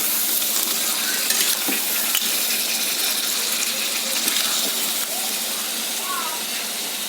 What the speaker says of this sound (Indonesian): sekarang kita aduk ya, biar semua bumbunya masuk ke